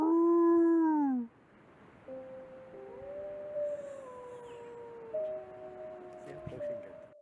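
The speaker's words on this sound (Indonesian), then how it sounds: "Bergerak tidak terlalu jauh untuk mengeluarkan beberapa lolongan keras, kemungkinan besar mencoba menemukan kelompoknya." A wolf lets out a loud, rising-then-falling howl lasting about a second, followed by quieter, long, sustained tonal howls drifting over a soft background.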